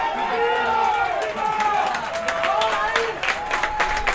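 Stadium crowd applauding a football player leaving the pitch as a substitute in a Copa Chile match, Rancagua Sur against Chimbarongo FC, as steady clapping and crowd noise under continuous commentary.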